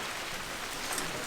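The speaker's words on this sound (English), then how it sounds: "Stop that raining now." Steady rain pours down outside at an abandoned farm, a dense, even hiss of drops hitting surfaces that holds at a constant level throughout with no voices.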